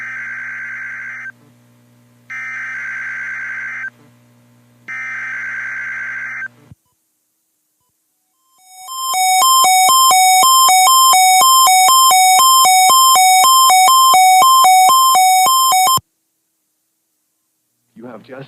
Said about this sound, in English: You have just heard a test of the National Weather Service radio warning alarm feature.